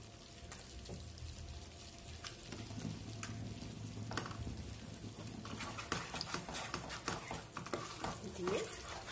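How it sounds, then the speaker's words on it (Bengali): Spice masala for a spicy Bengali pomfret curry fried and stirred in a pan, with a steady sizzle and repeated scraping strokes of the spoon close by, growing slightly busier toward the end. "আমার মশলা ভালো মতো কষে গেছে"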